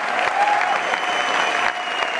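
Crowd applause fills a hall at an Amway Diamond celebration, steady and loud with a dense wash of many hands clapping together without pause.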